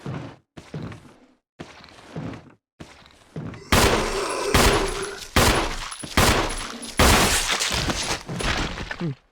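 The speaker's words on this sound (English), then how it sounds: "Alright, there's still a zombie in here. I guess we should probably shoot him." Gunshots fired at a zombie in Resident Evil (2002 remake), heard as a series of sharp, loud blasts with hard impacts: a few spaced shots followed by a denser burst of firing.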